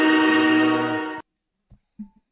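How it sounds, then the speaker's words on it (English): Train horn sound effect played during a live Buffalo Bills vs Cleveland Browns pregame show, a single loud, sustained chord-like blast lasting over a second that cuts off abruptly, followed by a few faint thumps. "Let me go ahead and hit that train horn real quick for you."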